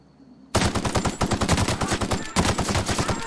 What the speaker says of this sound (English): Let's try out the assault rifle.